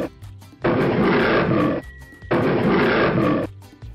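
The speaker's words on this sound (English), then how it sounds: "In the next one, we have a big lion." A big lion roars twice, each deep, loud roar lasting close to a second, separated by a brief pause and quiet grunting breaths.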